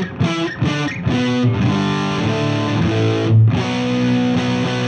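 Electric guitar played through an MXR Timmy overdrive pedal set with all knobs at noon and the clip switch fully right, giving a sustained overdriven tone with chords and single notes ringing continuously and loudly, with no talking.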